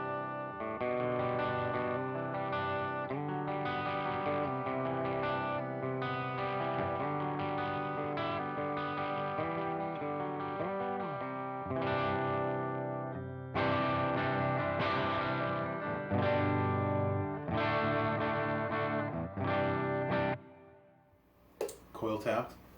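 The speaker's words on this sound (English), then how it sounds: "let's get some clean sounds, and I'll start with the full humbucker again" An electric guitar on its full humbucker pickup, with a clean or slightly driven tone, is played in a steady run of strummed chords and picked notes, with a brief pause and a little noise near the end.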